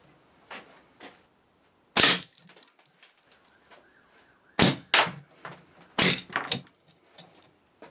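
A slingshot with four-strand bands fires 9.5mm balls that strike the catapult's fork tips, giving several loud metallic clangs and snaps at irregular intervals, each followed by short rattling, with quieter handling sounds in between.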